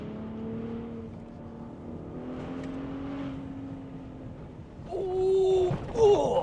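A Ford F-150 Raptor's 3.5-liter twin-turbo V6 in Baja mode accelerates off-road, a moderately faint engine drone that climbs, eases, then surges louder near the end with wind and bumping noise.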